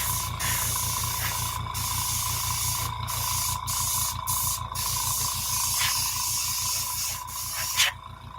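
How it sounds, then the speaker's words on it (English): An airbrush sprays paint in a steady, continuous hiss that runs close and fairly loud through the whole stretch, with a soft pulsing compressor hum underneath and a brief burst near the end. "I haven't practiced with my airbrush in a while."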